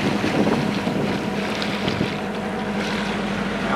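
A classic power boat cruising near Southwest Harbor, Maine at about 5.6 knots, its engine a steady low drone under wind buffeting and water rushing past the hull, continuous and close.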